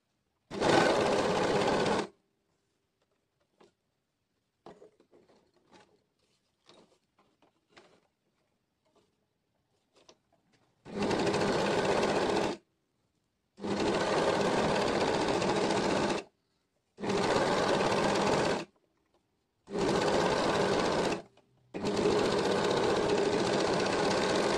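A sewing machine stitches a dress in six separate bursts: one short run, then a long pause with faint clicks and handling noises, then five runs in a row, each a few seconds of a steady mechanical whir.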